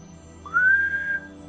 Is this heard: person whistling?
yes